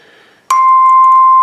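A handbell tone chime struck once, giving a bright, clear ping that rings on steadily and close after a faint lead-in.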